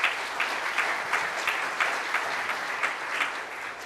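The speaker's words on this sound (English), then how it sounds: "but let's give him a round of applause." A seated audience at a club foundation celebration claps steadily for several seconds, moderately loud and unbroken, with no voices over it.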